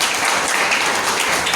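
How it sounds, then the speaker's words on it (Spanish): Church congregation applauding during a sermon, a brief, dense, loud wash of clapping filling the whole moment with no clear voices. "¿Cuánto le dan un aplauso a Jesús?"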